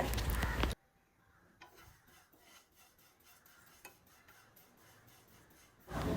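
Vermicelli (semiya) fries in a pan as soft, close scraping and stirring, with light ticks and rubs repeating at an irregular pace, quiet between louder bursts at the start and end.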